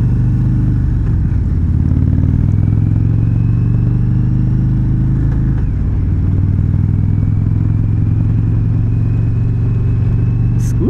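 An Indian Chieftain Dark Horse 116 motorcycle idles close by, its engine loud and lumpy with a steady low uneven throb that runs unbroken for the whole stretch.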